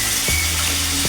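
Chopped tomato pieces dropped into sizzling ginger-garlic paste in a pan, a loud, steady frying hiss with a couple of soft thuds as the pieces land.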